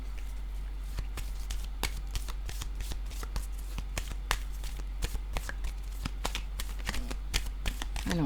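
Tarot cards are shuffled by hand close up, a steady run of crisp riffling flicks and slaps with a low hum underneath.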